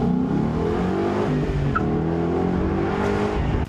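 Ford Mustang V8 revving hard under acceleration, a loud, close, continuous engine roar with strong rising harmonics held throughout.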